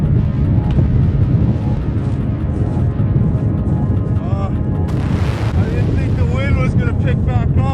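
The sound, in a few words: strong wind blowing in the Arctic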